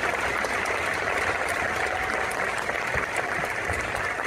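Steady, dense clapping from an indoor audience at a documentary celebration event, sustained and even throughout with no pauses, heard from within the crowd.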